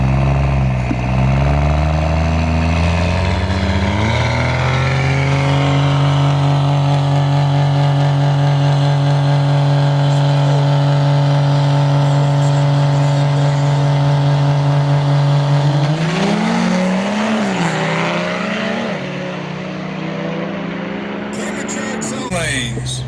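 A 5.3 LS turbocharged truck engine drones loud and close during a track test-and-tune run at a truck event, its pitch climbing then holding steady before shifting and easing near the end.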